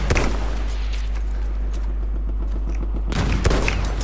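Heavy gunfire fills a Battlefield 1 battle, with a rapid fusillade of shots over a constant low rumble and a loud burst near the start and end. A nearby cannon is among the firing, and no one speaks.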